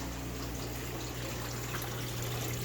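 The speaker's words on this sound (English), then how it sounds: "there is water spraying into some of these containers" Water sprays and trickles into the containers of a homemade betta fish system, a constant hissing, splashing wash with a low pump-like hum beneath, steady and close, without talking.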